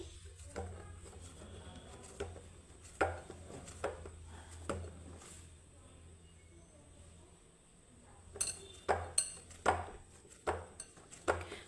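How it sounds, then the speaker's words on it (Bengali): A knife cutting soft milk paratha dough into portions on a board: a series of light taps and clicks, irregular and close, spaced across a quiet kitchen background with a low hum. "তো লেচিগুলো একটু বড় বড় করে কেটে নিচ্ছি।"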